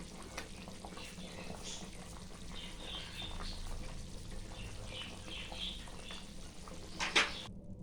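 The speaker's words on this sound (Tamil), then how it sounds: "இப்போ கொதிக்க ஆரம்பிச்சிருச்சு" A pan of mushroom kurma bubbles and simmers steadily up close, a soft continuous sizzle with a brief louder clatter near the end.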